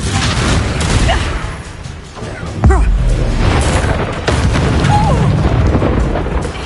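Confringo fire spell explosions in the video game Hogwarts Legacy: one sharp, loud blast lands partway through, amid steady rumbling combat noise and smaller pops, with a voice speaking at times.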